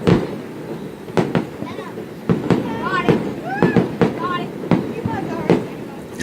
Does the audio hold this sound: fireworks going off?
yes